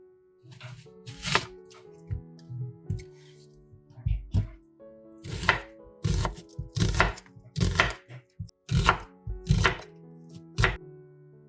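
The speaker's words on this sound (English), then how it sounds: "Cut an onion." A knife chops an onion on a board, about a dozen sharp, close thuds, first scattered and then in a steady rhythm, while a voice talks over the first few strokes.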